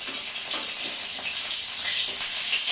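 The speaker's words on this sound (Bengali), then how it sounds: "রসুনটা ভেজে নিচ্ছি চাটনির জন্য, মোমো চাটনি" Garlic frying in white oil in a pan for momo chutney, a steady bright sizzling hiss that holds evenly, close and moderately loud, with no talk.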